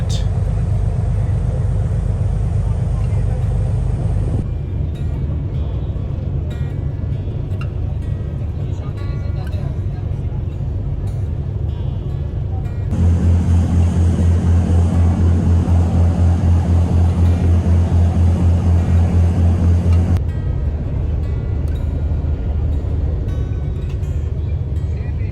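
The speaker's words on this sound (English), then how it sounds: "And onto the ferry heading back to Phuket." A ferry bound for Phuket churns along with a steady low engine rumble and broad rushing noise, a deeper, louder drone swelling for several seconds in the middle before easing back.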